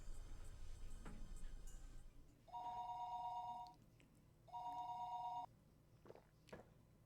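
A telephone rings in the visual novel Higurashi When They Cry, two long electronic ring bursts separated by a short pause, heard alone over quiet background ambience after a brief earlier sound.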